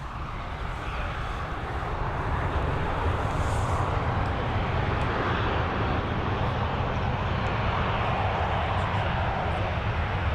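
An Airbus A320 passes over Dublin Airport, its engines giving a steady, broad roar that holds evenly for about ten seconds with no voices over it.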